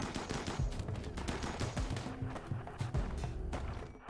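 Faint, rapid bursts of SMG fire sound in the video game RimWorld, crackling in quick repeated volleys over a busy mix of other game sounds.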